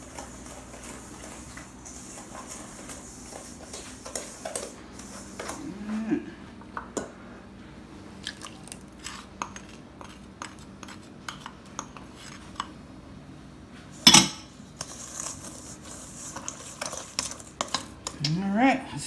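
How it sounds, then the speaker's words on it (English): Brownie batter is mixed in a bowl before the butter goes in, with soft scrapes and scattered clinks of a utensil against the bowl, fairly quiet, while someone talks intermittently. "Mix that in a bit before I add the butter."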